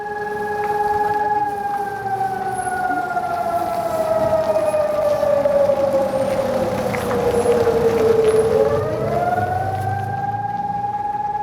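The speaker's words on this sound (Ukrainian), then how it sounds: "Увага! Оголошено повітряну тривогу." A loud Ukrainian air raid siren wails on its own, holding a long tone that slowly glides downward before rising again.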